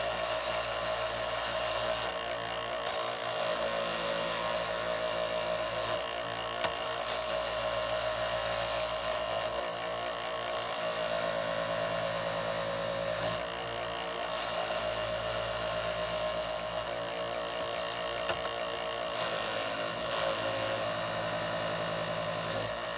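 A knife drawn through the fine side of a Chef's Choice knife sharpener: continuous close grinding and whirring with a motor hum, broken into several repeated strokes by brief shifts in the rasping texture.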